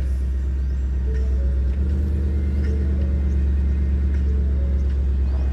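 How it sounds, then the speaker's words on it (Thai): The 5.0 litre V8 of a Ford Mustang idles with a steady, deep exhaust rumble close by, continuous and even throughout, with no talking. "นี่คือเสียงท่อของ Mustang นะครับ"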